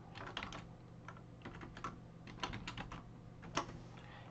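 Typing on a computer keyboard while entering an account password: a run of quick, close, moderately loud key clicks in irregular bursts with short pauses, and no talk.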